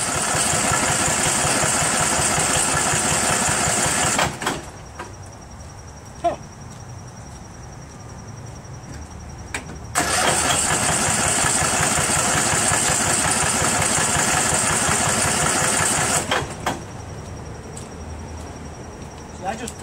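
Craftsman 13.5 mid rear engine riding mower running steadily at idle, a continuous mechanical drone that cuts out briefly twice and resumes, loud and close throughout.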